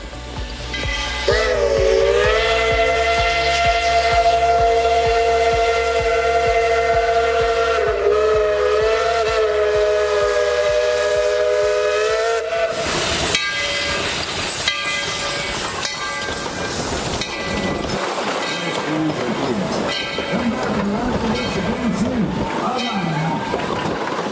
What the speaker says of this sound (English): the train pulls back into the junction to let the old passengers off and let new ones on